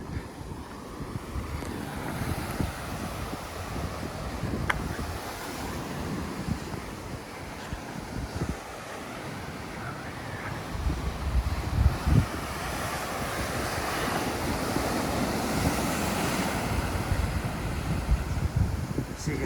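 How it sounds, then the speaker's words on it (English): Ocean surf washing and breaking over a rocky jetty at Morro Rock, Morro Bay, California, with gusty wind buffeting the microphone, a continuous rushing roar that swells louder toward the end. "You can see where these waves hit this jetty."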